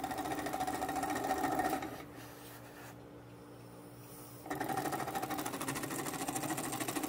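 A homemade oscillating wobbler steam engine runs on compressed air, chattering rapidly and evenly up close. It drops to a quieter hum for a couple of seconds and then returns at full pace.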